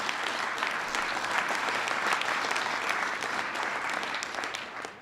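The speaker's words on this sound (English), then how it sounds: "Give them a big round of applause." Sustained applause from an audience at a clean nuclear energy event with building trades and union members present, steady and full for about five seconds before tapering at the end.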